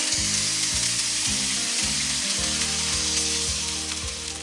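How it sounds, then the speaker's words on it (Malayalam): Freshly ground masala paste, added with a little water to hot coconut oil and curry leaves, fries in a pan with a steady, hissing sizzle and occasional stirring, up close over quiet background music. "ഇതിലേക്ക് നേരത്തെ അരച്ച് വെച്ചിരുന്ന അരപ്പ്"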